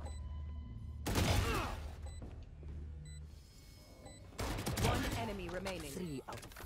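Gunfire in the first-person shooter Valorant, with sharp bursts of shots in two loud clusters and scattered single shots between them, mixed with game effects and a player talking.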